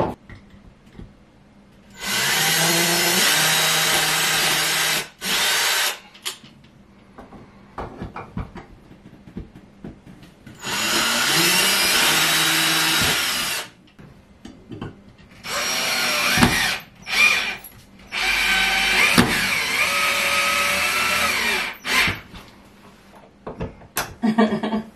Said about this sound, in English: let's pre-drill